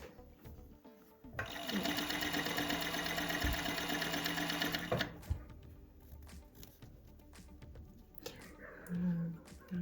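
A flatlock sewing machine fitted with a binder attachment runs steadily and loudly for about four seconds, then stops, followed by quieter handling noises and a brief low hum.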